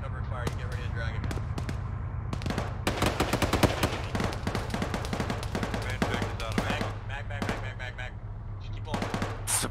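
Dense gunfire in ARMA 3, with bursts of rapid cracking shots and scattered single rounds layered over a steady low engine-like drone, close and loud, with voices talking underneath.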